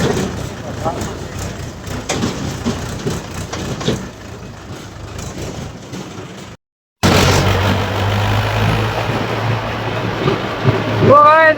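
A tractor engine runs on a rural road, a steady low rumble and broadband noise under ongoing talk, with a brief dropout midway.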